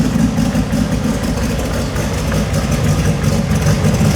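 A 2700+ horsepower VL engine idles loudly and close by, a heavy, lumpy low rumble that holds steady throughout with a constant rough, pulsing beat and no voices over it.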